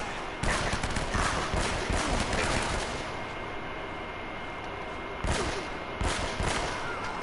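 Gunfire in Uncharted: Drake's Fortune, with a pistol among the weapons: sharp, loud shots crack out near the start and again toward the end, over a dense, constant wash of in-game battle noise.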